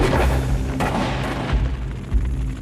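Distant gunfire and dull booms rumble through a noisy, chaotic background during a revolt at a feudal Japanese castle, with one sharper crack standing out early on.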